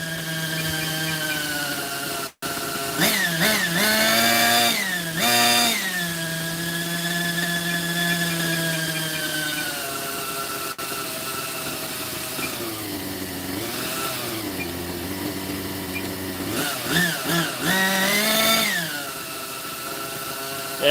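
A nitro RC helicopter engine runs loud and close for the whole stretch, its buzzing whine rising and falling repeatedly as the throttle is opened and eased back.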